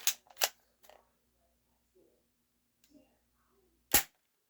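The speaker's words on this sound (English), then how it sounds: "that was the last shot." A Game Face Stinger P311 airsoft pistol firing, sharp dry snapping cracks: a quick pair and a weaker pop early, then near silence, then one final crisp shot near the end, close and loud.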